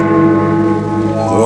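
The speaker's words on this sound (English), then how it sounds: "Then the bell struck 1." A single deep church bell rings one o'clock as a radio drama effect, one sustained resonant strike heard close and loud, its tone humming on through the short clip.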